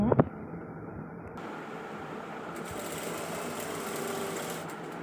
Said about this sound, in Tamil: இங்கே ஒரு தையல் போட போகிறோம் தையல் போட்டாச்சு